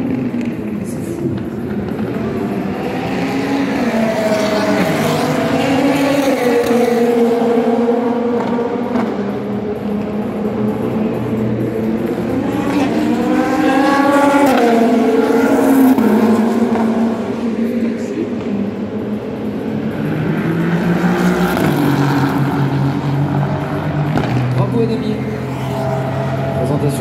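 Race cars in night free practice at the 24 Hours of Le Mans 2025 roar past in rising and falling engine sweeps, loud and repeated, with a commentator talking over the track noise.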